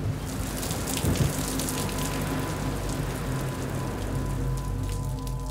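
Steady rain pattering on a surface, a constant close hiss of drops with no voices.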